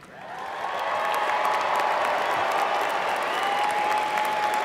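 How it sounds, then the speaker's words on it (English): Graduation ceremony audience at Washington State University breaking into a sustained round of applause, dense clapping that swells in and holds steady with a large crowd filling the hall. "So we'd like to recognize with rounds of applause"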